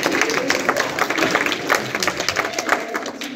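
An audience breaks into applause for a married couple at a premiere screening event, many hands clapping in a lively, uneven patter, moderately close, with a little crowd noise underneath.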